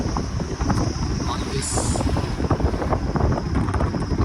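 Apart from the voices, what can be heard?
cold wind blowing at Ravangla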